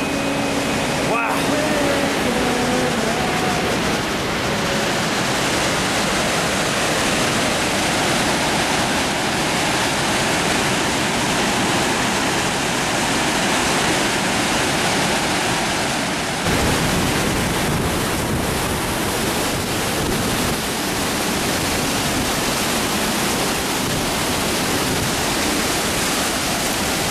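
Waterfall of 400-foot-deep falls in California nature, a loud, steady broadband roar of falling water throughout, with brief faint voice moments near the start.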